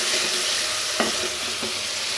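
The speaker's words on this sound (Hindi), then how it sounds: "इसको इतना हिलाना है, यानी कि इतना इसको फ्राई करना है" Chicken pieces stirred and fried in a pan, a loud continuous hiss of hot oil with a couple of brief spatula scrapes, up close and with no one speaking.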